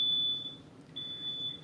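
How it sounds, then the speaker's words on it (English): Kitchen smoke alarm going off while vegetables roast for dinner: a steady high electronic beep sounding, breaking off briefly, then resuming, fairly loud over a quiet room with no talking. "now the smoke alarm's going off"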